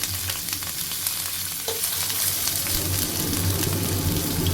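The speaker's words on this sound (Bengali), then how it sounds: "নিম পাতাগুলো এদিকে ভাজা হোক ততক্ষণ বেগুনগুলো এর সঙ্গে দিয়ে দিলাম" Steady, loud sizzling of neem leaves and small eggplants frying in hot oil, a continuous crackling hiss with a low stove hum beneath it.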